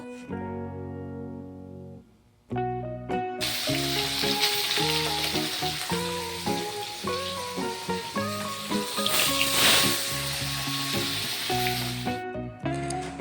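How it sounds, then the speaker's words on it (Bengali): Fish pieces frying in hot oil in a home kitchen for a mustard fish curry, a loud steady sizzle and crackle that starts after a short quiet opening and continues with no talking. "মাছগুলো এবার ভেজে নেব"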